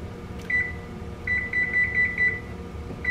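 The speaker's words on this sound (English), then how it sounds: "All right, we got our timer on for 5 minutes." Kitchen timer beeping while grits cook covered for 5 minutes: a short beep followed by a steady run of repeated electronic beeps over faint kitchen background noise, with no talking.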